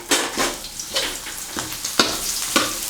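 Pounded spice paste for spicy fried catfish is stir-fried in plenty of oil, sizzling in bursts as a spatula pushes it around roughly every half second, close and moderately loud with no voices.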